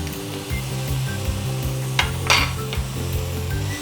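Tomatoes and turmeric powder cook in a pan for a South Indian mixed vegetable sagu, giving a steady low sizzle with occasional utensil clinks and scrapes, close and alone.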